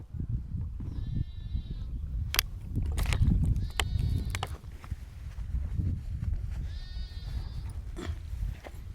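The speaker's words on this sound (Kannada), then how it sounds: "ಪಾಪ ಆಡ್ ಮರಿ ಭಾಳ ಉದ್ರಾತ ನೋಡೋದು" A goat kid bleats three times, short wavering cries spaced a few seconds apart, over a close rumble of handling and shuffling noise with a few sharp knocks.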